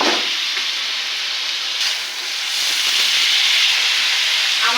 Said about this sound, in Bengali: আমার মশলাটা ভাজা হতে হতে